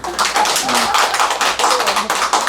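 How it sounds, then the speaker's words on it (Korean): An audience at a Buddhist lecture on the Platform Sutra claps together, a loud, dense and steady burst of many hands filling the room for a few seconds. "박수 한번 쳐주십시오."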